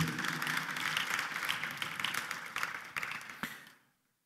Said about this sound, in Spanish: Fuerte aplauso a aquel que vive